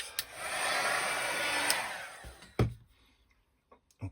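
A hair dryer blows steadily up close while stencil paint is dried, running for about two seconds before switching off, followed by a few light knocks and thumps in quiet.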